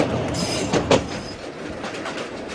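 A passenger train rolls along rails with a continuous rumbling roar, a couple of louder knocks near the start and faint high squeals mixed in, steady throughout with no voices.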